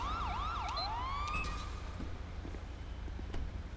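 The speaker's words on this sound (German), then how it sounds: "Ich mach mal eben die Sirene hier aus" A police car siren from a patrol vehicle in GTA 5 with the LSPDFR police mod wails loudly in rapid sweeping cycles, then cuts off after about a second and a half, leaving a low vehicle hum with a few faint clicks.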